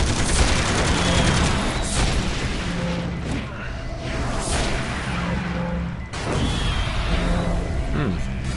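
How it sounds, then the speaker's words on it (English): Missile blasts and explosive booms in the City of Heroes video game, loud and sustained with rumbling bursts, under game noise and some talk. "that missile blast almost hurt"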